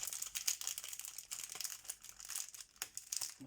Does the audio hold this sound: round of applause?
no